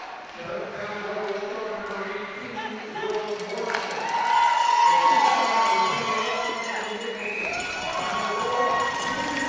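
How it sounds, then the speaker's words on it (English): PEI fans cheer inside the arena at a Charlottetown Bulk Carriers Knights versus Pinnacle Growlers hockey game, a crowd roar swelling in the middle, with a commentator's voice running over it. "Couldn't hear that assist over the PEI fans cheering underneath us"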